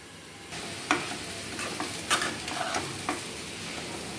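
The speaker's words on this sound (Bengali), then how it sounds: "কিছুটা সময় সবজিগুলো কড়াইতে কষা হবে" Bottle gourd and potato sauté under a lid in a kadai, a muffled steady sizzle with a few sharp ticks and clinks from the cookware, no one speaking.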